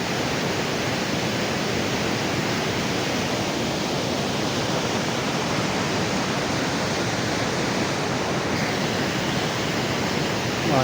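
Steady roar of a waterfall, a loud, uniform hiss-like rush of water continuing without pause, no one speaking.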